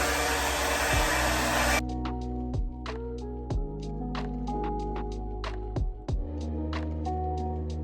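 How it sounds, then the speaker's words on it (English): A hair dryer with a diffuser dries curly hair in a loud, steady blowing drone, then drops to a lower setting with a tonal hum and repeated soft taps and clicks. "And now I'm able to go in from the bottom and start diffusing"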